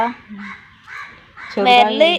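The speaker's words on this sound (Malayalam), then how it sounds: "എന്താ കാക്ക കരയണം" A crow caws loudly near the end, harsh and nasal, after quieter stretches of voices talking.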